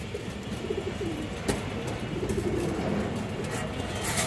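Pigeons coo in low, soft rolling calls beneath a steady hiss of background noise, faint and continuous, with no voices.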